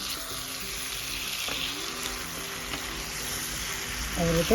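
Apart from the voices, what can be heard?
stirring spinach in ghee into Gujarati surti undhiyu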